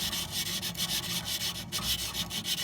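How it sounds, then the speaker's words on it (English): Sandpaper rubs back and forth across the parts of a fireplace insert that won't turn on, giving close, rhythmic scratchy strokes in quick repetition with no talking. "just get some sandpaper, not a heavy grip, but just"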